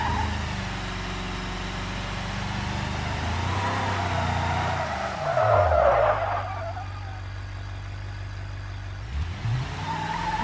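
A car in a video game drives with a low steady engine hum, then skids with a brief tire squeal midway before the engine settles back and revs again near the end.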